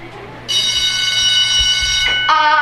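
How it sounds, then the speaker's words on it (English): A school bell rings loudly and steadily in a high school setting, a continuous electric ring lasting about two seconds, then a brief cutoff and a second burst of ringing. "Saved by the bell."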